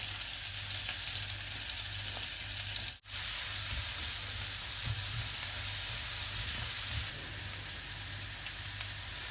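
Small shallots fry in a pan as the base for a peppercorn steak sauce, giving a steady, dense sizzle that holds close and loud. A single brief dropout breaks it near the start, and no one speaks.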